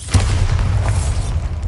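A Bombarda explosion spell from Hogwarts Legacy lands as a deep, rumbling boom that hits sharply near the start and rolls on low and heavy for over a second.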